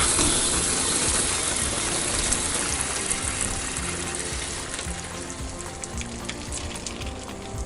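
Water squirts from a released valve on a Sanden hot water system under pressure, making a steady, close, sizzling hiss that fades slightly toward the end.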